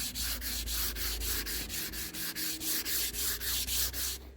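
Steady back-and-forth hand sanding of wood with 240 grit paper, a rhythmic scratchy rasp repeating about three times a second, close and fairly loud with no talking.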